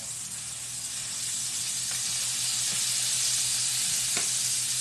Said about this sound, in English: Let me check my bacon. The bacon's coming along.